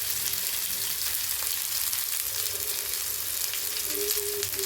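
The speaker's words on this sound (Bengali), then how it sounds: "মটরশুঁটিটা দিয়ে দিলাম, পেস্ট করে রেখেছিলাম। ভালো করে ভেজে নিতে হবে।" Green pea paste fries in a pan for kachori filling, giving an even, continuous sizzle with faint crackles and occasional light stirring, close and steady with no talk.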